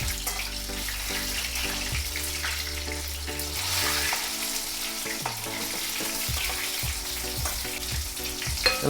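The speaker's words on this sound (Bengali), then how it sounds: "এখনো অনেকটা ভাজা হবে।" Food fries in a pan with a continuous loud sizzle and crackle, and a low background hum runs underneath without any speech.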